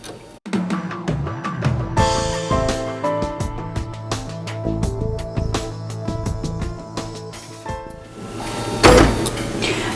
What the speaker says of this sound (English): now I'm going to start the machine, and it's going to tack all these layers together